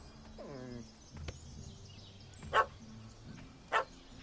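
A dog in The Witcher 3 barks at a cat up a tree: two sharp, moderately loud barks about a second apart, following an earlier whining yelp, over quiet game ambience.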